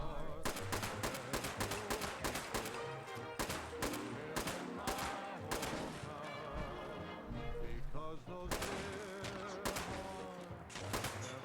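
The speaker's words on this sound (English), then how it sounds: "I'm like emptying mags on these dudes." Rapid, loud gunfire while shooting enemies in Fallout 76, with dense bursts of automatic shots in long strings broken by short pauses and a layer of game sound underneath.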